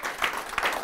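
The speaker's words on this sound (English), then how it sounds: "give him a round of applause, Alan" Audience applause at a personal branding talk, a brief burst of crowd clapping in a room, fairly loud and heard on its own.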